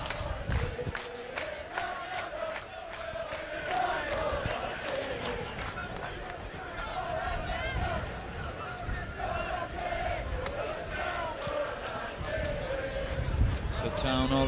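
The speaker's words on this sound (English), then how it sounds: "As the crowd come to life." Rugby league playoff crowd at Workington rising to roar and cheer late in the match, a sustained broad swell of voices with a commentator talking over it.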